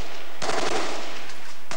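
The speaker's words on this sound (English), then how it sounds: "Throughout the day, there has been sporadic gunfire." Sporadic gunfire in Beirut: a loud rapid burst of automatic shots rattling for about a second, then a short pause before another shot begins at the end.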